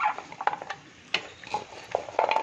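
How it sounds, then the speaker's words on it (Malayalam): Spoon stirring a Kerala lololikka pickle in coconut oil with vinegar, giving soft, intermittent scrapes and light clicks spaced irregularly, close up with no talking. "എന്നിട്ട് നന്നായിട്ട് ഇളക്കി കൊടുക്കുക"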